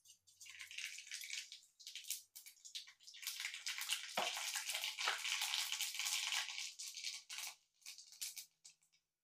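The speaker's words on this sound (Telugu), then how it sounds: "ఆయిల్ వేడైందండి. ఇప్పుడు మనం పోపు దినుసులు వేసుకుందాం." Tempering spices sizzle in hot oil in a pan for a mushroom curry, a dense crackling hiss that comes in bursts, steady and close, with no talk.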